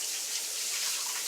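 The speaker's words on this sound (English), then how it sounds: "And I'm going to add it to the boiling water." A steady, bright hiss and rush of water for a little over a second, as quartered potatoes go into a pot of boiling water for aloo roti, close and continuous with no voices.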